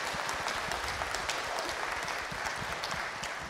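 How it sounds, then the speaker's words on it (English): A church congregation applauds during a Sunday service, a steady, fairly close burst of many clapping hands holding an even level throughout. "Let's give him a round of applause also."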